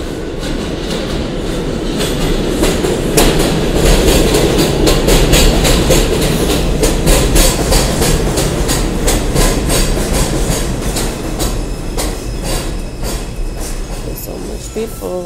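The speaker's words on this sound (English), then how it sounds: "our train's coming" A subway train roars in loudly, with wheels rumbling and clacking rhythmically over the rails and a steady heavy hum throughout.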